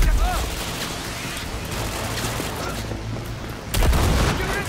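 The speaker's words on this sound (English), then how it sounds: "Those are explosives, good to know." Explosions go off in the video game Cyberpunk 2077, with a low rumbling burst and crackling debris over busy game noise, and a louder blast near the end.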